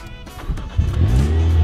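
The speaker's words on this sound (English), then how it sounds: "and the car starts up" A Mini Cooper JCW engine fires up from a push-button keyless start, a brief crank followed by a catch and a steady, loud idle rumble close by.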